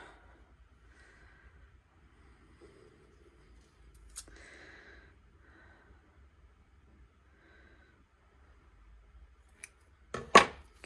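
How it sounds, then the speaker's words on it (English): A few quick scissor snips close by near the end, after a long stretch of near silence with faint rustling. "Okay, I need to grab my scissors."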